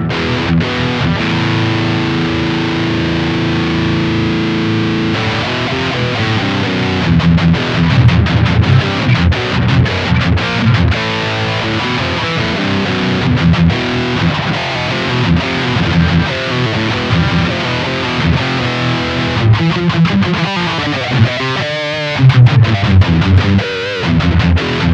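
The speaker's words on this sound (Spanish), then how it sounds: "el The Dude de J-Rockets Audio Designs es uno de los mejores pedales de" An electric guitar plays through a J. Rockett The Dude overdrive pedal with treble boosted, giving a thick, crunchy driven tone of sustained chords and quicker riffs, loud and up close with no talking.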